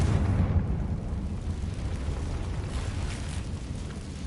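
A Confringo fire spell explodes in the video game Hogwarts Legacy, giving a dense, sustained rumbling blast that stays loud and low for several seconds before easing slightly.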